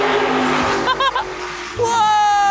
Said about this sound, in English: you can call this a race car or a stock car